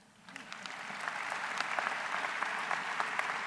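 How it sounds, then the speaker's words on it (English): Applause at a 2014 Butler University convocation starts from quiet, swells within a second into dense, sustained clapping from a large crowd, and holds steady at full strength. "Give her a round of applause."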